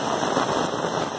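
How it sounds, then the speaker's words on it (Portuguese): Heavy rain pours down steadily in Ubatuba, São Paulo, flooding a house's yard, a dense continuous hiss of water with slight wind rumble and no pauses. "Que chuva sinistra!"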